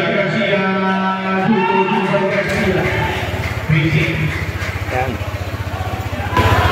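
A motorcycle fitted with a new ATR 160 carbon tire hugger is started, its engine catching and then idling with a steady low putter under a man's brief speech.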